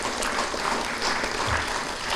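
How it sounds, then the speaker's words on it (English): Sustained applause from a school audience at a student recognition ceremony, a dense, even wash of clapping hands at moderate volume with no speech over it. "I think they all deserve a round of applause."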